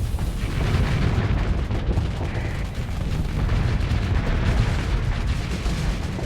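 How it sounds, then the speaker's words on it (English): Dense, continuous gunfire and booming artillery from space-fleet combat in the video game Starsector, a loud, steady barrage that fills the whole stretch with no pause or talk. "Gunshot."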